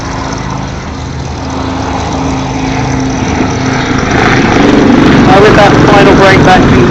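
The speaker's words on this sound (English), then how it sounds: "you can also hear the high whine of the two 900 horsepower Rolls-Royce gas turbines that power each aircraft" Two Westland Lynx helicopters, each powered by two 900 horsepower Rolls-Royce gas turbines, accelerate toward the crowd at the Duxford Air Show, a loud continuous engine roar with a rising turbine whine building toward the end.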